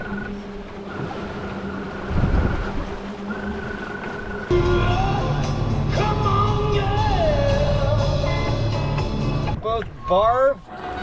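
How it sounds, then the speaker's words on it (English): People sailing a boat on the Oregon coast talk over rushing wind and water, then give a few loud, rising whooping yells near the end. "now we're yelling woo"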